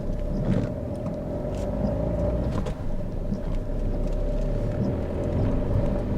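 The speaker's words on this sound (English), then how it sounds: "So we're on a 1 in 8 hill, second gear, and that's pulling like a train." A 2016 Fiat Panda Cross TwinAir 0.9 climbing a steep 1-in-8 hill in second gear, its small twin-cylinder engine droning steadily and close from inside the cabin with a low road rumble.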